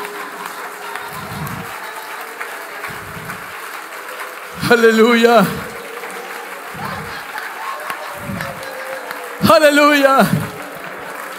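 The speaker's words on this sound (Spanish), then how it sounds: "Dale ese aplauso al Cristo que está aquí." A church congregation breaks into applause in two loud bursts, each lasting about a second. A voice calls out between the bursts.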